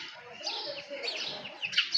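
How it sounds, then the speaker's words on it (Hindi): House sparrows chirp in a sunny courtyard, a busy tangle of quick, bright tweets from several birds at moderate distance with no talking. "स्पैरो अपनी अपनी आवाज़ें निकाल रही थी।"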